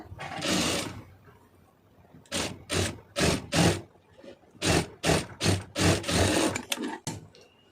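A sewing machine stitches fabric for an invisible hem border, running in short, loud, close bursts: one long run, a pause, then two quick series of evenly spaced rapid runs with no talk.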